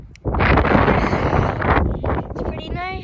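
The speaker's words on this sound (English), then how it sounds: "It's kind of windy out here" Wind gusts roar steadily against the microphone on an outdoor basketball court on a cold day, loud and close, easing slightly toward the end.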